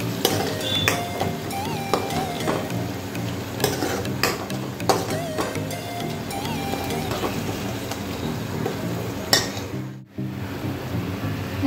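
Egg bhurji with turmeric being stirred in hot oil in a pan, with a soft sizzle under repeated spatula scrapes and light clinks against the metal, briefly pausing near the end.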